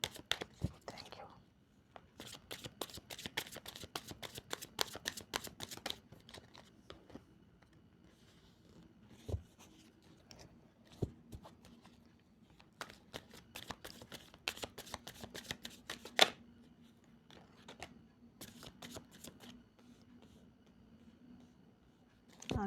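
A deck of cards being shuffled by hand, repeated bursts of quick riffling flutters close by, pausing and starting again, with soft speech at moments.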